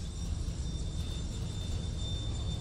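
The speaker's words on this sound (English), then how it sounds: "Oh god, the engine's so loud. I mean, yeah, it's a crash jet engine." A crashed jet engine in the video game Defiance roars as a constant loud broadband drone with a thin high whine above it, steady and unbroken throughout.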